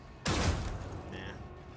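A single heavy burst of gunfire in Warhammer 40K Rogue Trader, loud and sudden, trailing off into a fading rumble with a brief mechanical tone afterward.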